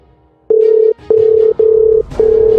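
A telephone ringback tone sounds on a call, four steady, loud, even beeps of one pitch separated by short gaps, with faint background noise and no speech.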